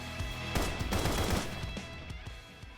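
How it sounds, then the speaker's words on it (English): A rapid burst of video game gunfire, several sharp shots in quick succession then trailing off into scattered single shots, loud and close with no speech. "Gunshots ring out and you lose control of your body."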